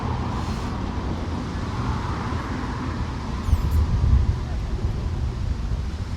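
Strong gusting wind buffeting the microphone at an electric-car charging station in Taree, a steady broad rumble with low gusts throughout, close and loud.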